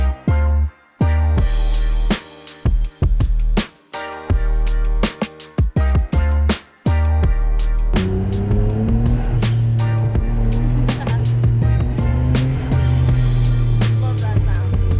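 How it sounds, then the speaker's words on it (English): Nissan Skyline R33 GT-R fitted with a GReddy exhaust, heard close up as a series of sharp throttle blips and revs separated by short pauses, then a sustained loud engine drone at idle or steady revs. "The exhaust sounds way better too."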